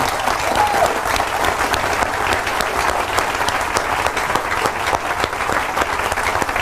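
An audience applauds to welcome a speaker, a steady, full round of clapping from a sizable crowd that holds evenly throughout, with faint voices mixed in.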